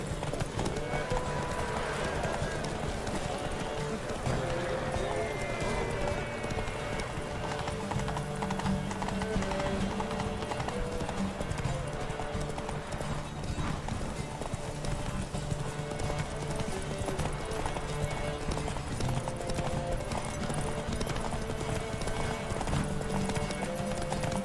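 In The Witcher 3, the horse Roach gallops in a race, a rapid, steady clip-clop of hooves running throughout with occasional snorts and voices talking over the pounding rhythm.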